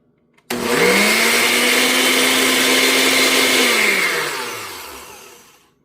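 A kitchen blender whirs loudly as it purees a yogurt and avocado dip, starting abruptly, running at a steady high-pitched drone for about three seconds, then winding down gradually.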